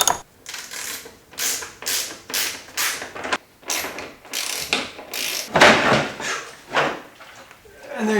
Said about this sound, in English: you can see I need to take that bolt out now